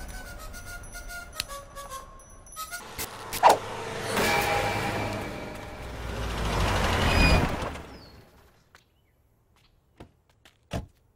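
A car driving past, its engine and tyre noise swelling over several seconds then fading out, framed by a few clicks and thumps before and after, with no speech.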